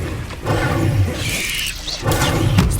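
A Confringo fire spell blast in Hogwarts Legacy: two loud, crackling, shattering bursts close by, separated by a short lull.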